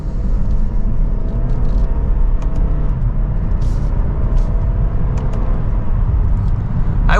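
2024 Lexus IS300 F Sport four-cylinder pulling hard from second gear, a loud continuous engine drone and road rumble heard from inside the cabin, with a faint rising tone as it accelerates.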